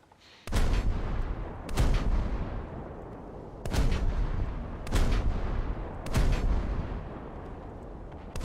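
Heavy ship guns in a naval combat game fire in a string of about five loud booming salvos spaced a second or two apart, each one rolling off into a long rumbling tail, with no voices.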